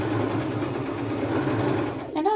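A sewing machine runs continuously while zigzag stitching an appliqué patch onto a t-shirt, a close, steady mechanical whir that stops near the end.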